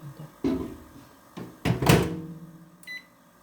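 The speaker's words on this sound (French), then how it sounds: "on va mettre tout cela à chauffer pendant 2 minutes 30 pour faire fondre le chocolat à 360 watts dans le micro-ondes" Microwave oven set to 360 watts to melt white chocolate: a few dull door and handling thunks, a louder clunk as it starts, then a short high beep, all close and without talk.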